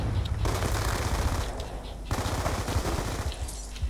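Rapid automatic gunfire in Call of Duty Black Ops 2 multiplayer against bots, dense bursts with brief pauses between them, loud and close.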